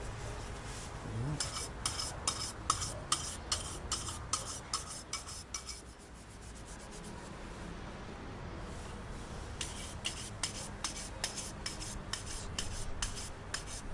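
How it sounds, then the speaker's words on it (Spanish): Stiff brush rubbing wax over a fired ceramic piece to raise a satin sheen, a close, steady scratchy rasping in rapid strokes, pausing briefly near the middle before resuming. "poner un poco más de cera y cepillar para que la cera agarre un poquito de brillo y quede una superficie satinada"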